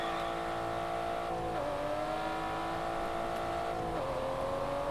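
Car driving in the racing game Test Drive Unlimited Solar Crown, a steady tonal engine whine holding pitch, dropping briefly at gear shifts and climbing again, smooth and continuous with no voices.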